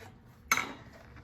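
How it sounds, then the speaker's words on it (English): A really sharp knife slices through chicken at an angle, making a single brief crisp cut partway through an otherwise quiet moment. "just cut it at an angle like this with a really nice sharp knife"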